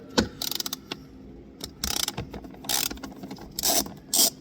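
A socket ratchet works a 10mm bolt loose while installing a GX550 wireless phone mount, with rapid clicking runs of the pawl in several short bursts between pauses, close and clear with no talking.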